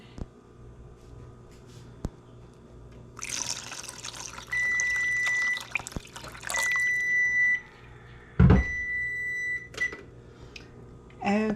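Water poured into a roasting pan holding a deer roast, a trickling, splashing run in a few bursts of several seconds each over a low background hum, with no talking.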